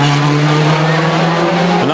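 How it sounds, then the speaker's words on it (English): A rally car on tarmac powers out of a hairpin corner at the 2007 Rally France, its engine note loud and steady, rising in pitch as it accelerates, with a gearshift near the end. "Very smooth around that hairpin corner and quickly back on the power."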